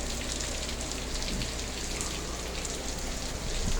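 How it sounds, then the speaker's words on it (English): Very hard rain pouring down in a dense, steady roar of drops hitting surfaces, loud and unbroken throughout with no voices. "it's rained hard in the past, but not this hard"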